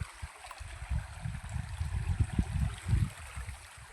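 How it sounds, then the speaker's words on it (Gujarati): Rain-swollen river water in Gir Somnath flows with a soft, low gurgling murmur and uneven rumbling surges, fairly faint and heard without voices. "એટલે નીર પાણી ચાલુ થઈ ગયું છે"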